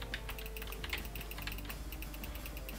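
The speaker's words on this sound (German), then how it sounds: "Und ich hoffe, man hört nicht meine Maus und Tastaturen." Soft, quick clicking of a computer keyboard during a Minecraft session, a steady close patter of keystrokes at low volume with no voices.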